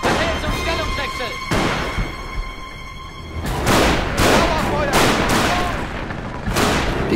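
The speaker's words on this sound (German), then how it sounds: "Stehen unter MG-Beschuss!" Sustained gunfire and machine-gun bursts in the World War II tank game Panzer Elite, with repeated sharp blasts and a dense crackling battle din running throughout, loud and near.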